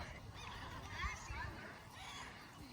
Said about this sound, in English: We're gonna be feeding these seagulls some cookies.